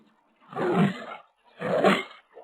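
Two deep, loud lion roars, each about a second long, are separated by a short pause, with a third one beginning at the end, in a cartoon jungle story for children.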